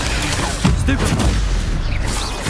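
A Stupefy spell cast in the Hogwarts Legacy video game while fighting spiders bursts out as a sharp impact among other spell blasts and a voice, with several punchy hits in a couple of seconds.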